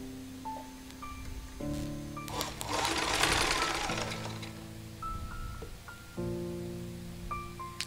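A sewing machine stitches a seam on a kids' frock, its motor running in steady bursts that stop and restart with a faint mechanical hum, close and clear, with a noisy rattling stretch in the middle.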